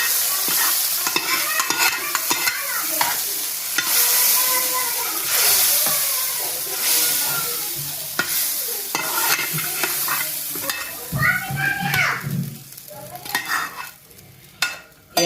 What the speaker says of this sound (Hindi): तो अब हम इसमें डालेंगे अपना तड़का।